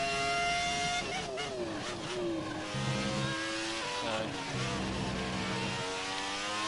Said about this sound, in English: I love the engines back in this era. They sounded fantastic, has to be said.